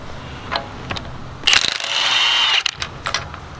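A Milwaukee 1/2-inch impact wrench loosening a bolt, giving a loud rapid hammering burst of about a second, with a few shorter clicks and mechanical rattles around it.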